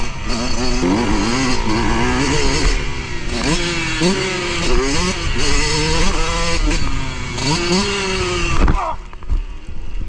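A motorcycle engine revs up and down repeatedly, loud and close, with rising and falling pitch before dropping off near the end.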